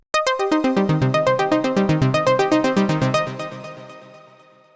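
A fast, evenly pulsing polyphonic synth arpeggiator preset from the ANA 2 software synth steps through stacked notes in a bright, rhythmic pattern, then fades out as the final notes decay.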